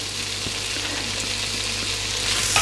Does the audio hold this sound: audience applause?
no